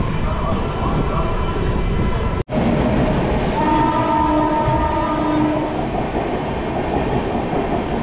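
The Gyaneshwari Express, bound for Howrah, rumbles past at Panskura Junction with loud continuous wheel and carriage noise, a brief cut, then a sustained horn blast over the roar.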